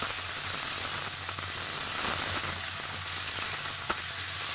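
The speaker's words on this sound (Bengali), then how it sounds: "একটুখানি হলুদ মাখিয়ে রেখেছিলাম আলুটাকে আমি একটু ভালো করে ভেজে নেব" Turmeric-coated potatoes frying in oil with cumin and garam masala, a steady close sizzle and crackle of hot oil, continuous and even, with one faint clink near the end.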